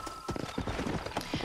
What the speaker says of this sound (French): Qu'est-ce qu'il est venu dans la maison, ce cheval?